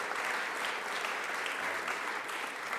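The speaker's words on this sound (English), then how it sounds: "Give her a round of applause" A city hall audience gives a steady round of applause for Councilwoman Cherelle Parker at a program launch, a soft, even wash of clapping heard from some distance.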